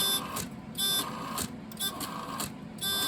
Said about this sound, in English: that other noise you hear is the printer